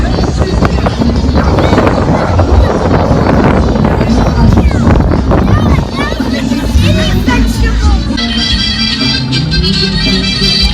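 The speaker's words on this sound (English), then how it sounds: "Super windy, but the sun's coming out" Strong outdoor wind buffeting the microphone in a loud, continuous broadband rumble, with a faint murmur of voices underneath throughout.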